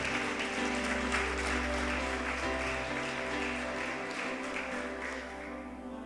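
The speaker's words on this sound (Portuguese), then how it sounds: "Pode aplaudir a Jesus." Congregation in a church applauds, a broad continuous wash of clapping over a sustained low musical drone and organ-like tones, moderately quiet, fading toward the end.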